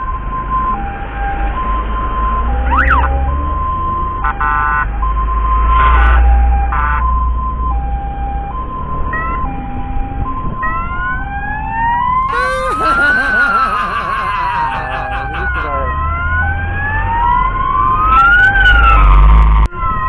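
Escort vehicle sirens following an ambulance in heavy traffic on a muddy road, several electronic wails and yelps overlapping and sweeping up and down, close and loud over engine rumble, with brief horn blasts and someone talking.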